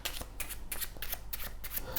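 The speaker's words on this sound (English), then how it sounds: "Now we can give them a shuffle," A deck of playing cards is riffled and shuffled by hand during a close-up magic trick, giving quick repeated papery bursts of flicking cards at a soft, near level.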